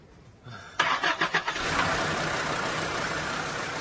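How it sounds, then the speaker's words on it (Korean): A jeep with an MVA 2000 engine cranks in a few quick, loud pulses, then catches and settles into a steady idle that runs to the end. "시동도 한번 걸어보겠습니다"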